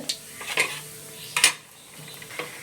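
Mustard seeds and dried red chillies dropped into hot oil in a pan for a Kerala moringa leaf thoran, giving brief crackles and a few clinks of a spoon against the pan, close and fairly quiet.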